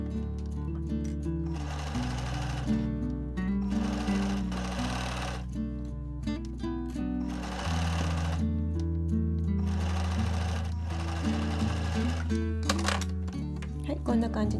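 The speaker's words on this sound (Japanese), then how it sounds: "次にですね、袖口をステッチでね押さえたいと思います。" A sewing machine stitches down the cuff of a sweater sleeve, running in long, steady whirring stretches broken by short pauses, with musical tones layered underneath.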